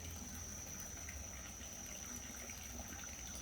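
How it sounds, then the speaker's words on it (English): A bubbling garden fountain in Bali splashes steadily, a soft broadband gush with a faint high hiss above it, no voices. "Bubbling fountain."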